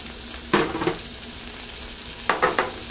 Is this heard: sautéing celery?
yes